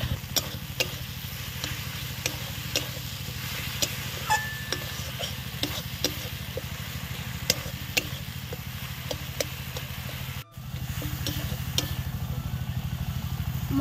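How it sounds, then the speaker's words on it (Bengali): Cumin spice paste frying and being stirred in a pan for a Bengali fish curry with yam, giving a steady close sizzle with light scraping clicks throughout and one brief dropout near the end. "এবার 4-5 মিনিট ভালো করে কষিয়ে নেব মশলাটা।"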